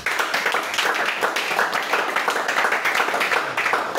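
Congregation clapping in rhythm during church worship, a steady fast patter of many hands lasting the whole stretch at moderate loudness with little talk.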